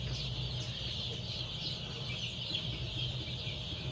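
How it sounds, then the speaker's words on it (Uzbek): Andijan black chicken chicks chirp in a continuous high, busy chorus, near and steady, with low rumbling background underneath and no voices. "Andijon qora tovuq jo'jalarimiz."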